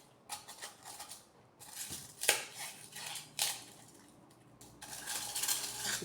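Styrofoam cut into smaller pieces with scissors for drainage in a Phalaenopsis orchid pot; a series of crisp, uneven snips and crunches come close and alone, with short pauses between them.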